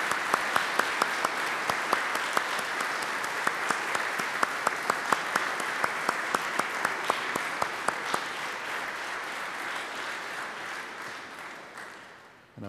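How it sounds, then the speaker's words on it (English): A church congregation at Mass applauds mothers with a long round of clapping, a few sharp nearby claps punctuating the steady patter before it fades out near the end. "Let's have all our mothers stand and we'll recognize them with a round of applause,"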